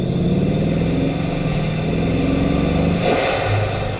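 Lamborghini-style Mistral sports car engine revving hard, a loud close-up mechanical roar that rises in pitch through the run, swelling again near the end with no voices present.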